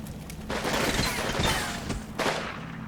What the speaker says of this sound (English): the machine gun that we bombarded is still intermittently active, so it's not destroyed